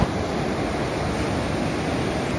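Ocean surf below the Torrey Pines cliffs in California, a continuous broad wash of breaking waves with some wind noise, steady and fairly loud with no voices.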